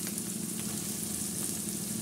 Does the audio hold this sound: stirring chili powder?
yes